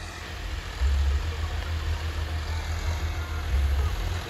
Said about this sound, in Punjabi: ਆਉਂਦਾ ਵੀਰੇ ਆਪਣਾ ਟਰੈਕਟਰ, ਦੇਖਿਓ ਤੁਸੀਂ।